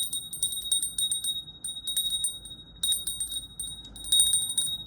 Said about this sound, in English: Let's ring the bell and start this off, okay?